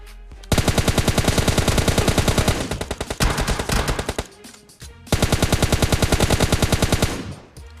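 Rapid automatic gunfire from a solo-versus-duo video game shooter rattles loudly in two long sustained bursts, with a few short bursts and brief pauses between them.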